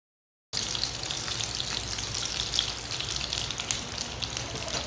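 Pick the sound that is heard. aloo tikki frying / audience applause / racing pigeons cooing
aloo tikki frying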